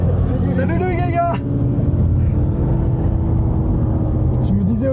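A race car passes on the Magny-Cours F1 circuit in France, a loud engine roar with a rising whine that sweeps past early on, then a steady rumble continues while people talk over it.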